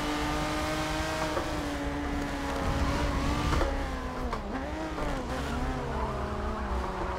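A race car in Forza 7 revs hard with its engine pitch rising and falling while the tires squeal and skid, loud and continuous with no pauses.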